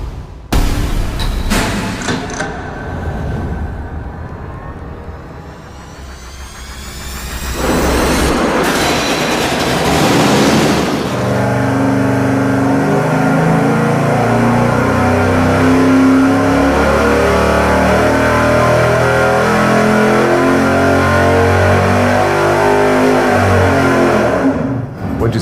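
A 408-cubic-inch engine with freshly ported cylinder heads runs on a dyno: a few blips and a lower idle, then a loud, sustained full-throttle roar that holds for over fifteen seconds before cutting off.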